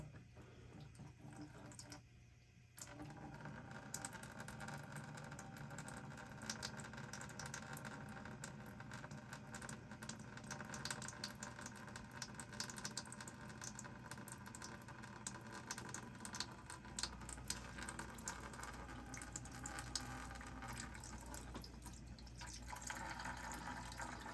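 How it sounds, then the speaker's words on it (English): Pressurised water flushing through an aquarium DI resin system, a steady close rushing hiss like a running tap that continues loudly throughout, with a brief dip near the start. "Let's just put the pressure into it"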